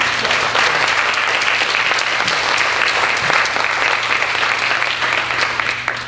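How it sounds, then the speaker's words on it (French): Sustained applause from a crowd at a press conference, steady dense clapping filling the room for several seconds without a break. "Là c'est là que vous applaudissez."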